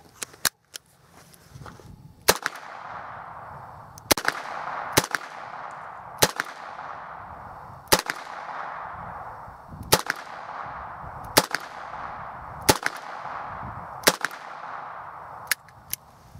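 Hi Standard Double Nine revolver fired double action outdoors, about nine sharp reports spaced roughly every one to two seconds, each crack trailing off in a short echo, with faint handling noise between shots.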